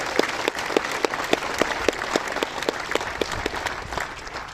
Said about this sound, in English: could everyone please give Nadia and Janetta a really good round of applause